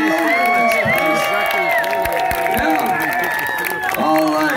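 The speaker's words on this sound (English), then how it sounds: "let's have a round of applause for Victoria McKernan" A crowd at Victoria McKernan's place, where she is the owner, breaks into loud, sustained applause and cheering, with shouts and whistles overlapping in a dense, close wash of sound.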